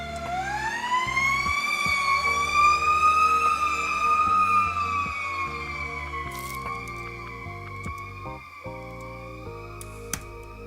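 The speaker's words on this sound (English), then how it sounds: "you guys can hear the lovely soothing sounds of a fire engine going somewhere at midnight" A fire engine siren wails at midnight, its rising and falling tone sweeping steadily and loudly through the whole stretch with no voices over it.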